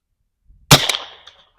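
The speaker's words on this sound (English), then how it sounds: "now that, my friends, is a squib" A squib load of a Lyman one-ounce Foster slug in a 12-gauge shotgun fires with a single weak, flat pop after near silence, followed by a short fading rattle and echo.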